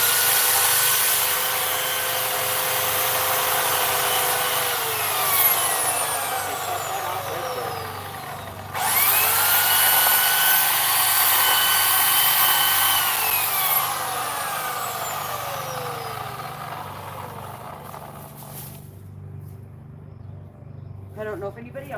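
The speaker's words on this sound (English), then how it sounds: "really glad I went with the electric chainsaw to start with" An electric chainsaw cuts through wood in a whittling session, its steady motor whine rising and falling in pitch across two long passes, with a brief pause between them and no break in the continuous grinding buzz.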